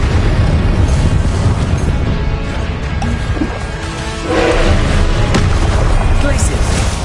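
Confringo spell explosions from the Hogwarts Legacy video game burst in loud, crashing blasts over a rumbling mix of game effects, with a fresh impact surging in near the middle.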